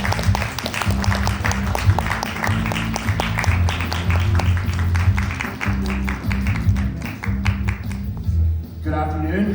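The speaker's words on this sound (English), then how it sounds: "Please welcome with a warm round of applause" An audience applauds a speaker coming onto the stage at a conference event, with dense sustained clapping that fades near the end.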